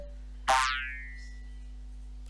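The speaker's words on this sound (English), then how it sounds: "Quite a satisfying little boing sound when they finally get into their Christmas pudding." A single springy cartoon boing from the Holiday Lemmings video game as lemmings drop into a Christmas pudding, a sharp bright twang that decays over about a second over a low steady game hum.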